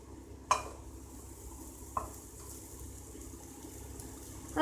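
Cooked rice gets folded into a mushroom mixture in a pan with the heat off, quiet faint background hiss broken by a few spoon knocks against the pan and a louder scrape at the end.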